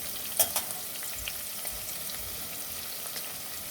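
Chana dal and potatoes fry in a pan for a village-style curry, giving a steady soft sizzle with a few sharper crackles and stirring scrapes near the start, fairly quiet and without talk.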